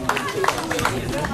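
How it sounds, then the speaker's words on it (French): A crowd applauds the three prize winners at a French championship medal ceremony. Scattered claps sound over steady crowd chatter and a voice talking. "on applaudit les 3 lauréats"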